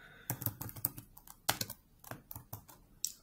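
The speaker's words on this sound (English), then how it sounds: "type notepad" Keystrokes on a computer keyboard, a quick irregular run of sharp clicks and taps, close but quiet, with short pauses between bursts and no voices.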